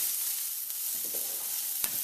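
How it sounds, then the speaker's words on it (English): A pot of eggplant, stewed pork and Scotch bonnet pepper being stirred, a faint quiet sizzle with a few soft scraping touches. "Give that a quick stir"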